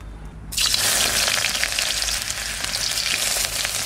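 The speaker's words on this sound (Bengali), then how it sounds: "এবার পেঁয়াজ কুচিটা দিয়ে দেবো।" Chopped onion drops into hot mustard oil in a wok and erupts into a loud, sudden, continuous crackling sizzle that holds steady and close after a quiet moment.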